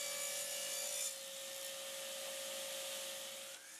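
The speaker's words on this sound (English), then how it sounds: "here I'm cutting some thin strips of walnut" A power saw rips thin strips of walnut wood, a steady high whine with broadband cutting hiss running nearly the whole time, slightly louder at the start and easing off near the end, with no talk.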